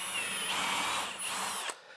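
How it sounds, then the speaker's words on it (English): A power drill whines at high speed for under two seconds boring a shelf pin hole, then winds down abruptly, close and alone. "I'm going to drill the first hole right there"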